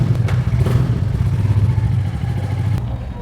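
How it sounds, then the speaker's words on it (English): Royal Enfield Meteor 350 motorcycle exhaust idling close by, a loud, low, steady thump with light mechanical clatter and a couple of brief clicks. "that was a quite loud exhaust of that motorcycle"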